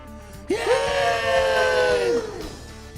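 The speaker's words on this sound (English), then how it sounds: "As the door to the studio opened, the squeaky door, the crowd in Seacrest Studios cheered" Studio audience in Seacrest Studios, gathered for a Montgomery Gentry visit, lets out a short burst of loud cheering and whooping right as a squeaky door opens, strong for about two seconds, then fading.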